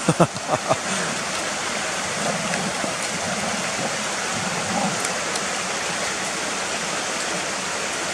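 Stream water rushing steadily near waterfalls in the Ashgill and Cotterforce area while a dog plodges about, a few splashy knocks at the start, then continuous broadband flowing water throughout.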